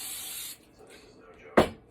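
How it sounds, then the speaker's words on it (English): Cooking spray hisses onto a pan for about half a second, a short close burst followed by quiet kitchen noise and a sharp knock. "So what I'm going to do is spray my pan here."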